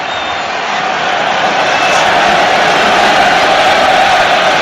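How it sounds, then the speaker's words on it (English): A football stadium crowd roars steadily at a Poland vs Wales match, a loud, dense wall of cheering that holds and swells slightly throughout. "Crowd roars again."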